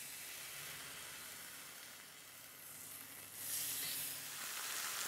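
Six half-cut bacon slices laid down in a cast iron skillet give a steady, fairly loud sizzling hiss that swells louder near the end, with no talk.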